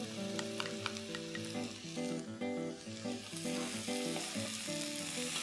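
Peeled, finely chopped tomato sizzles steadily in a pan of carrots and green peas cooking into a sabzi, a continuous close frying hiss layered over background music.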